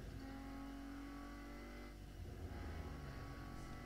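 A car drives and revs in Need for Speed No Limits, a continuous engine drone with gear-shift surges, moderately loud and steady throughout.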